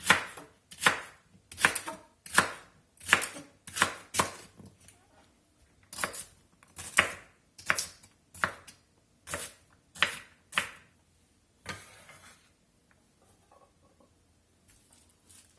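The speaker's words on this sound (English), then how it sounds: "rough chop on the celery." A knife rough-chops celery on a board for a gumbo-base collard greens dish: crisp, close, rhythmic chops in quick bursts of two or three, about twenty strikes that turn sparser and quieter toward the end.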